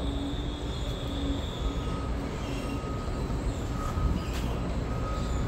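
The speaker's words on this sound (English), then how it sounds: "It's another metro." A Washington Metro train passes through New Carrollton Station as a steady rumbling roar with faint squeals from the wheels, holding even and continuous throughout, and no voices are heard.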